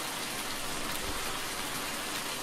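Rain falls steadily in the Farming Simulator 19 video game, a dense, loud, even hiss of drops that continues without a break and with no voices.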